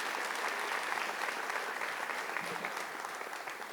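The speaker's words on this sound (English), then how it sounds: "Please give a round of applause." Audience applause at a volunteer awards ceremony honoring a parks division and horticulturalist team, steady dense clapping from a crowd throughout, moderately loud and fading slightly at the end.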